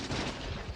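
Turrets firing in the factory-building game Factorio, a brief dense burst of rapid gunfire, steady and fairly loud with no voices.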